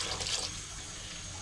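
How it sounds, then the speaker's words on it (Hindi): Water splashes steadily into a pot of chickpea curry gravy on the stove, a continuous close rushing pour with no talking. "तो हम डालेंगे इसमें आधा गिलास पानी।"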